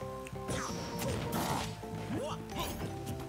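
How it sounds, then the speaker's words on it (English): Down smash attacks land in Super Smash Bros. Ultimate, Mario against Wolf, giving heavy crashing hits and a swooshing impact amid busy game effects, music and crowd-like tournament noise. "Two raw down smashes."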